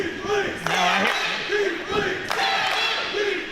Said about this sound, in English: you can hear right now the dueling Sammy and Keith Lee chants going back and forth